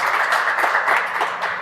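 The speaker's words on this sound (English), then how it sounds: "let's give a big round of applause for these speakers" Dense, steady applause from a summit audience for panel speakers, sustained and fairly loud throughout with no voices over it.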